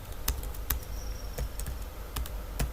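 Typing on a computer keyboard while writing HTML: a handful of sharp, separate key taps at an uneven pace, close by, over a low background hum.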